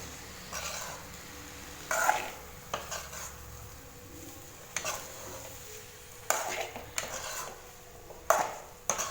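Cauliflower being stirred and sautéed with masala in a pan, a spoon scraping and clinking against the metal in spaced, irregular strokes over a faint background, with no speech.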